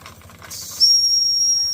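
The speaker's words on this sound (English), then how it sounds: "See if the whistle works." A Wilesco toy steam tractor, cold-started for the first time in 50 years, gives a soft hiss of steam and then a loud, steady, shrill whistle that holds for about a second.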